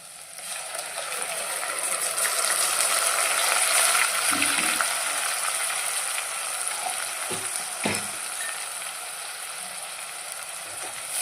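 Ground onion paste frying in a pan for mushroom curry: a steady, close sizzle with a few scraping clicks of stirring scattered through the middle and toward the end.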